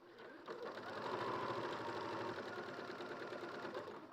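A sewing machine stitches fabric along a curved edge within the seam allowance, running in a steady close whirring hum that starts after a short pause and continues without talk.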